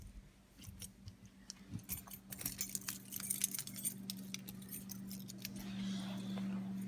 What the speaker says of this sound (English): Keys. Need those.